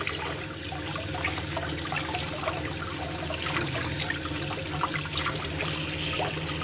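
Steady running water from a tap pours continuously while a carp is washed clean in a kitchen, a constant splashing rush with no pauses.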